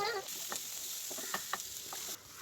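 Garlic and cabbage frying in a pan with curry leaves, a steady soft sizzle throughout with a few light stirring clicks and scrapes, fairly quiet and with no voices.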